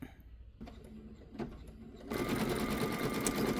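An embroidery machine stitches out a luggage tag design with a steady mechanical whirring and rapid needle chatter. It runs quieter at first, then grows louder and denser partway through.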